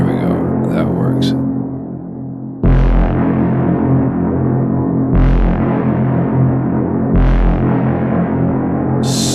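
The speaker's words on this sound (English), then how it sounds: "Something I don't like about this reverb." A synthesized bass plays three sustained, heavy notes drenched in reverb and chorus, each struck with a thumping low attack and long washy tail, loud and up front with no voices.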